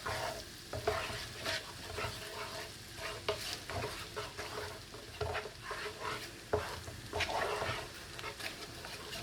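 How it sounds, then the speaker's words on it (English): Garlic toasting in a frying pan for pan-seared salmon with a creamy spinach and parmesan sauce: a close, steady sizzle with frequent scraping stirs and utensil taps and no talk. "you don't want to burn the garlic. Just get it nice and toasted"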